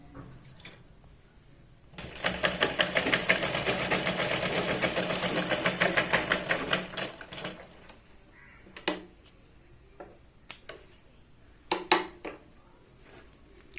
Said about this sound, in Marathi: शोल्डरला आपल्याला 2 ते 3 वेळा इथे शिलाई लावून व्यवस्थित मॅच करून घ्यायचं।